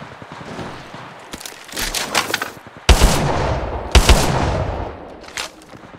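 Video game gunfire rings out in rapid automatic bursts with heavy, booming reports, loud and close, in a few separate volleys with no speech over them.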